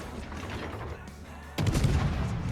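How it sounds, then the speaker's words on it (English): A naval gun salvo fires from a destroyer in World of Warships, a sudden heavy boom at mid-clip that swells into a rolling roar over a steady background rumble of game ambience. "so I get a couple of shells into him."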